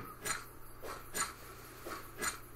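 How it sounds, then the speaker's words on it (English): Repeated hammer blows on rock while mining in the survival game Savage Lands: four evenly spaced, scraping, gritty strikes about a second apart, fairly quiet, over a faint steady low hum with no talk. "I think it's because I'm pounding on this rock."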